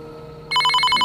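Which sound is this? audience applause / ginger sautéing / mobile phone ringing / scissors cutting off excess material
mobile phone ringing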